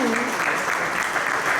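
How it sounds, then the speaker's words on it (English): An audience at an event for the SeekoG education app launch breaks into sustained applause, a dense, loud wash of clapping that fills the whole moment with a bit of voice mixed in. "Can we have our applause, ladies and gentlemen?"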